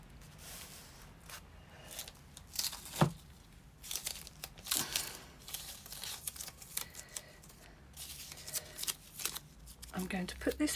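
Strips of tape handled during paper crafting, with crinkling, rustling and light tearing sounds in irregular bursts, close and fairly quiet, while a person talks.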